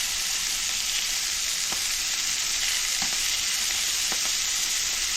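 Bite-sized brat pieces fry in a cast iron skillet with a steady, even sizzle and a few faint scrapes or taps from stirring, with no talking.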